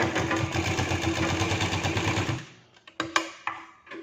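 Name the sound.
sewing machine stitching a blouse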